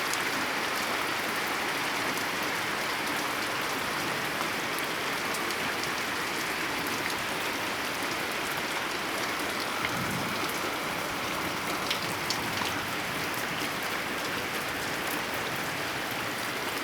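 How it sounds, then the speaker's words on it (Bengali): Heavy rain pours steadily on a surface, with water running off an edge and streaming down; the dense, even hiss holds at close range throughout, with no voices. "অনেক বৃষ্টি হচ্ছে এখানে"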